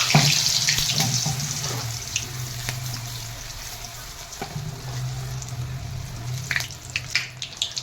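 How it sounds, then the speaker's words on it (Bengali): Battered pumpkin flower pakoras sizzle in hot oil, a bubbling crackle mixed with clinks and stirring noises that rises again toward the end. "চুবিয়ে নিয়ে এই তেলের মধ্যে ছেড়ে দিতে হবে।"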